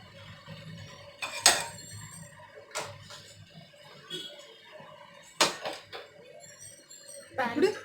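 Metal pan set down on a kitchen stove while making Andhra bobbatlu, a few sharp clanks and clinks spaced apart in a quiet room, with a voice talking between them.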